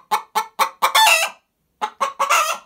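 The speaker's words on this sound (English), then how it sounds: "when hens sing the egg song like that" A hen's egg song up close: four sharp clucks building into a long drawn-out squawk, then a pause and the same rising pattern again.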